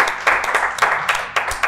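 Audience clapping for panelists at a comedic mock presidential debate, a short burst of applause pulsing in uneven surges, fairly loud and close, with no speech over it.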